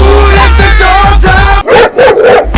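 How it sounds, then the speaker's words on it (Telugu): Dog barking in short yips and woofs, several quick barks in succession, loud and close against steady background music. "ఆ కుక్కని నీ మీదకి వదులుతాను."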